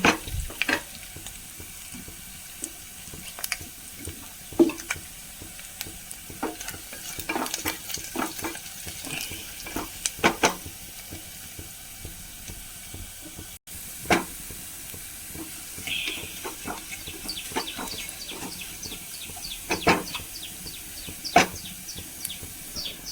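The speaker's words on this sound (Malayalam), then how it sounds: "ഉള്ളി മുളകൊക്കെ നന്നായി മൂത്ത് വന്നിട്ടുണ്ട്" Onions and chillies fry in a pan for an Ankamali mango curry: a steady, close sizzle with repeated scraping and clinking of stirring throughout, and no talking.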